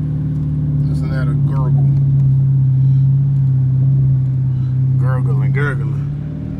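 Idling V8 of a Dodge Challenger R/T, a steady low exhaust burble holding throughout under someone talking close by.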